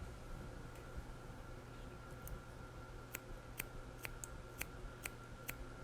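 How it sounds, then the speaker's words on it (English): Scissors point-cutting the ends of hair for a stacked bob, heard as a series of small sharp snips, spaced about half a second apart in the latter half, close and faint over a steady low background hum. "I'm going to point cut it on the ends so that it has texture in those ends"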